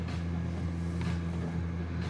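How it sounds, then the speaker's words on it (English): An air conditioner runs in a room, giving a faint, steady low hum that holds unchanged throughout, with no talking. "you can hear the AC running right now"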